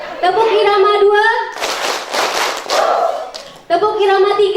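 A group claps hands together in a second rhythm pattern at a community health post gathering, a roughly two-second flurry of claps set between spoken instructions.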